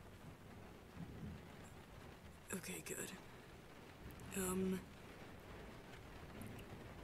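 Thunderstorm with rain, a steady wash of rainfall with a couple of rumbling thunder bursts, one loud and close near the middle; a voice speaks briefly under it.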